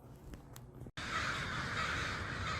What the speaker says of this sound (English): I'm seeing some more crows, and even more are coming.